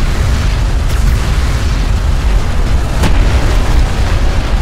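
An enemy craft is destroyed in the desert strategy game Homeworld: Deserts of Kharak, letting off a loud, sustained rumbling boom. Two sharp cracks cut through the dense blast noise.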